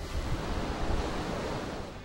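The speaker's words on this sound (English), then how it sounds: "just the sound of the ocean" Ocean surf heard from a seaside balcony rolls in as a steady, full roar of breaking waves with some wind rumble against the microphone, loud and close, with no voices.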